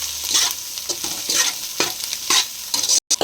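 Egg fried rice ingredients being lightly fried and stirred in a pan, with a steady sizzle broken by repeated scraping strokes of the spatula roughly every half second, up close, with no talk.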